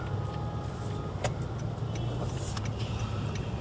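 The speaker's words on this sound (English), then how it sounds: "Traffic in Acapulco." Street traffic in Acapulco, Mexico: a steady, dense roar of cars passing close by, with scattered brief clatters and rattles cutting in over the continuous rumble.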